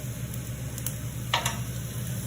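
Peppers sizzle in a cooking pot for chicken tortilla soup as they are stirred, making a steady close frying hiss with a few soft scraping stirs.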